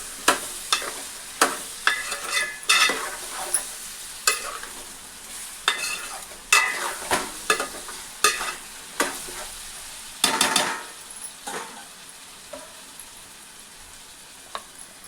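Spoon stirring eggplant curry masala with salt in a pan for Andhra-style stuffed brinjal curry, a steady run of sharp scraping strokes roughly every half second over a faint sizzle, close and alone without talk.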